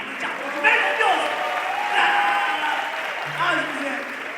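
Applause and cheering rise from the audience at a comedy show, a steady clapping wash with a voice talking over it.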